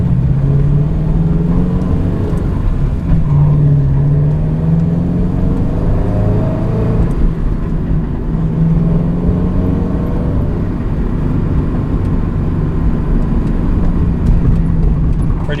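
A Toyota 86 / Subaru BRZ fitted with a UEL catted header and Corsa exhaust drones steadily from inside the cabin, a low, fairly quiet rumble with a constant engine hum throughout.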